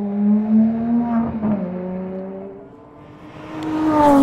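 A 7.3-litre naturally aspirated V12 in an Aston Martin One-77 rated at 750 horsepower, its engine note rising and falling in loud, steady harmonic tones that swell again toward the end.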